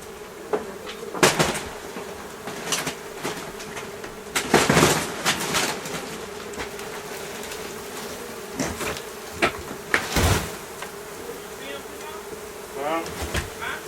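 A swarm of honey bees drones steadily inside a makeshift shed, its buzzing hum running throughout under loud knocks and bangs of wood being moved and handled.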